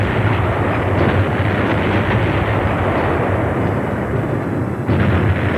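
Continuous loud blasts and live gunfire rumble through Navy SEAL training on obstacle courses, a dense, unbroken barrage with heavy low-end booms and no pauses or talk.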